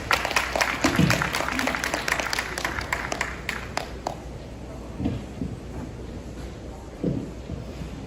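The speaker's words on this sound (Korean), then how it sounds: "큰 박수 많이 주십시오." Audience applause at a lecture on supercapacitors versus batteries: a short burst of scattered clapping in the first few seconds that thins out and fades, followed by quieter room sounds and a few faint thumps.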